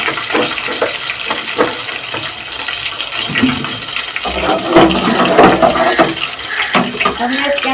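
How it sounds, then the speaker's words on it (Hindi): A little more cooking oil poured into a pan while cooking a bottle gourd and chicken dish, heard as a loud close liquid splashing and hissing that swells toward the middle. "मैं थोड़ा सा ऑयल और डाल रही हूँ।"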